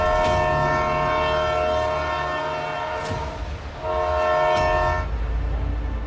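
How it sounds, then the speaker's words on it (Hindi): A train horn sounds at a station as the train is about to depart, sustained blasts over steady rumbling rail noise, loud and close, dipping briefly mid-way before the horn swells again. "ट्रेन निकलने वाली है।"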